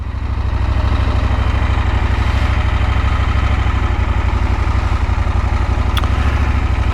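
A 2024 KTM 890 SMT motorcycle engine idles steadily and loudly up close, giving a deep, even, pulsing thrum with no talk over it.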